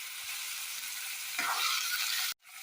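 Onions and amchur sizzle in a hot pan with an even hiss that swells briefly louder partway through, then cuts off abruptly near the end.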